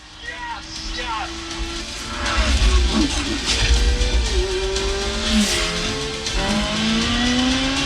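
High-powered race cars in the Gran Turismo racing game roar past one after another, engines swelling and fading with squealing tires over a deep, rumbling low end.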